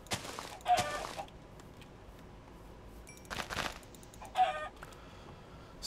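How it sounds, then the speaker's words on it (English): Short bursts of chicken clucking come and go in Minecraft, a few scattered clucks separated by quieter pauses, fairly close and clear. "Chickens!"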